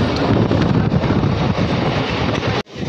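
A local train runs just past Konnagar station. Heard from inside, the carriage gives a loud, continuous rumble with wind roar, which drops out suddenly near the end.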